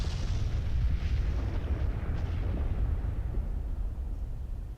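A massive blast in the video game Honkai Star Rail fills the scene with a loud, sustained roaring rumble that holds heavy and dense for several seconds before trailing off at the end.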